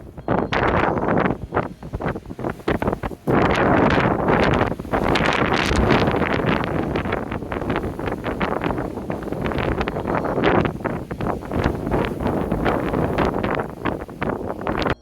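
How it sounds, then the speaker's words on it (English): Strong wind buffets the microphone in loud, continuous gusts, roaring and rustling with brief dips for nearly the whole stretch. "I'm going to give you guys a taste of just how windy."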